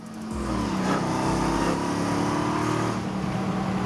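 A Nissan GTR accelerates hard on a test drive, its engine a loud, steady drone that holds strong and close for the whole stretch with no talking over it.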